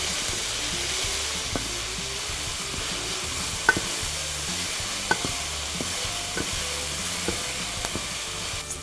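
Vegetables and onions sizzle and fry in a pan, salted to draw out their moisture, making a steady, moderate crackle with occasional sharper pops and clinks of stirring, and no one speaking.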